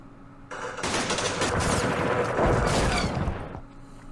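Airstrikes in the wargame Campaign Series Middle East, from the Battle of Port Said, land as a loud burst of booming blasts and rattling gunfire that starts suddenly and rumbles continuously for about three seconds before cutting off.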